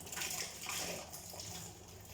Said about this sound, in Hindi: पानी लूँगी और इसके अंदर अच्छे से करेंगे वाश